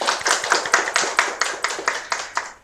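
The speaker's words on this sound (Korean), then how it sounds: "구청장님께 큰 박수 부탁드리겠습니다" An audience applauds a district mayor at a policy forum, a steady round of clapping that fades in bursting pulses toward the end, with no talking.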